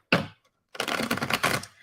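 Tarot cards being shuffled by hand, a quick riffle burst followed by a longer, dense flurry of crisp card flicks, close and fairly loud with no talking.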